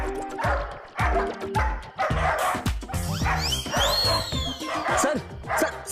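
Several dogs bark and yip in quick, overlapping bursts close by, with whimpering yelps and a few high whines mixed in.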